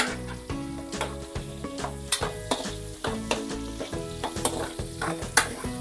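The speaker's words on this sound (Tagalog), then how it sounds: "Gisa lang muna natin yan guys hanggang sa mangamoy yan." Garlic cloves and onion sautéing in a pan, with a continuous close sizzle and frequent spatula scrapes and taps over a steady tonal hum from a kitchen appliance.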